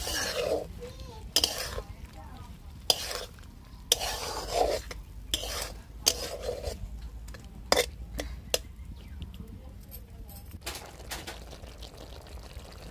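Flat beans and potatoes are stirred in a pan with mustard paste, ginger and green chili paste, salt and turmeric, in a string of separate scraping and clattering bursts with short pauses between them, close and moderately loud.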